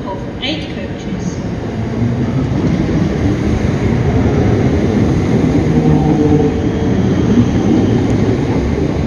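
An eight-coach Class 321 passenger train rumbles along steadily with a dense, low mechanical roar, constant and close throughout, as if heard from inside a carriage.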